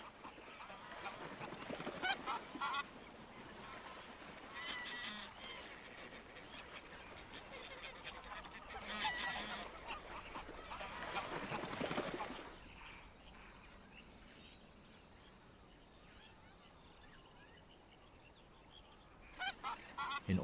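A large flock of migratory geese and ducks gathered on the water honks and quacks continuously at a distance, rising in dense bursts, then thinning to sparser calls.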